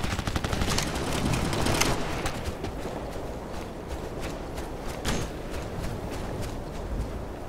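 Gunfire in the military video game Operation Flashpoint: Red River: rapid automatic bursts and scattered shots crackle loudly and continuously, heaviest at the start and then thinning into intermittent shots and clatter.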